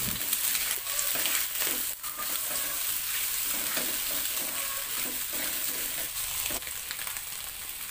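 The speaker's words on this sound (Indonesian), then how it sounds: "Digongsreng sebentar" Scrambled egg with meatballs, onion, chili and leek stir-frying in a pan, a continuous close sizzle broken by scraping stirs and bursts of crackling, with no voices.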